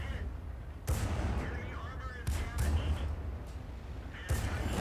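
Tank gun in a tank video game firing repeatedly, four heavy booming blasts spaced about a second or more apart over a low rumbling background, fairly distant and muffled, with no talking.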